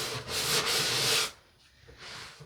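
Hand sanding on a wooden bathroom vanity, a close, steady abrasive rub for over a second, then a pause and a softer, shorter stroke.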